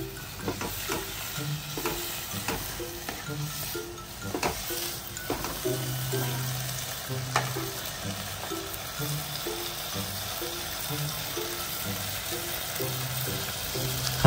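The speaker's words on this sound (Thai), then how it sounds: "แล้วก็ผัดคลุกเคล้าให้เข้ากันนะครับ" A bamboo shoot mixture is stir-fried and tossed in a pan with steady sizzling and repeated scraping, stirring strokes, close up and continuous, with no voices.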